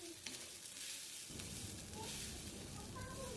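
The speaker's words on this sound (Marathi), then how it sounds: "आता त्यामध्ये खोबरं आणि लसूण टाकून घ्यायचे अगोदर." Coconut and garlic sizzle in a little oil on a hot tawa, a steady close frying hiss that swells louder partway through as the ingredients hit the pan, with no talking.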